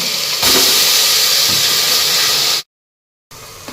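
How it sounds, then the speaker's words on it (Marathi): Black masala frying in oil for a village-style chicken curry, a loud steady sizzle and hiss that cuts off abruptly into silence, then resumes briefly. "आता हे सर्व आपल्याला तेल सुटेपर्यंत छान असं परतून घ्यायचं आहे."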